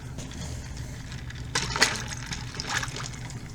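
Liquid poured over a Halloween cocktail, a soft trickling splash that swells briefly in the middle and fades, heard close and alone over a low background hum.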